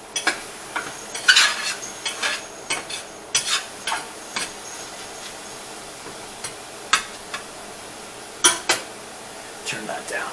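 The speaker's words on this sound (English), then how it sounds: "let me stir these up here a little bit. I still got my mushrooms cooking down here." Mushrooms cooking in a pan are stirred with a utensil, giving scattered scrapes and clinks against the pan over a faint sizzle, with occasional quiet sounds between strokes.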